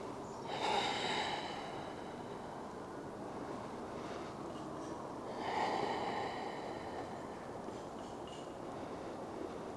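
Slow, deep breaths during a yoga pose, two long airy inhale-exhale swells a few seconds apart, close to the microphone and fairly soft, no talking.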